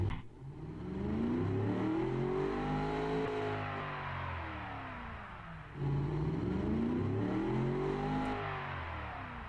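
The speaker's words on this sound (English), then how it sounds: "And I'll just show you the sound of this engine quickly." A 2-valve-per-cylinder car engine in the Automation game revs up twice in a row. Each time it climbs steadily in pitch to a high wail, then winds back down, loud and close with no talk.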